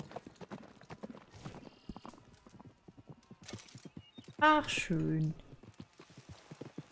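Horse hooves clopping in Red Dead Redemption 2 as the horse comes closer, steady quiet beats building to a loud whinny and snorting near the end, with someone talking over it.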